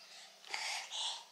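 A woman sneezes once indoors, a short breathy burst that lands close and fairly soft, followed by a faint exhale, with no speech around it.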